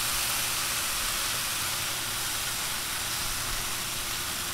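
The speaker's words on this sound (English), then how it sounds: "you can hear that sizzling" Raw potatoes sizzle in oil on a Blackstone 22-inch griddle over medium to medium-high heat, a steady, broad hiss that holds evenly throughout with no voices.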